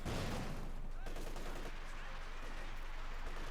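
Infantry gun fire and battle noise in Company of Heroes 2, a dense continuous rumble of shots and blasts at steady loudness, with a voice talking over it.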